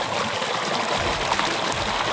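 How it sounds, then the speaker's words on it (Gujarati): Water gushes at full flow from the pipe of a village water pump after its rotor was cleared of grit, a close, steady rushing splash with no pauses. "પાણી માંડ્યું ફૂલ આવવા."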